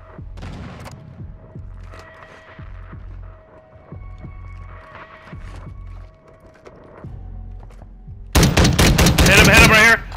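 Gunfire in a battle royale trios match: a steady throbbing heartbeat-like pulse and low hum run through most of the clip, then a loud burst of rapid automatic shots bursts in near the end, close and dominant.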